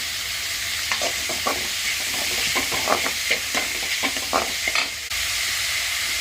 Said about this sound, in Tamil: வெங்காயம் நல்லா வதங்கட்டும். அது கூட கொஞ்சம் கருவேப்பிலை போட்டுக்கலாம்.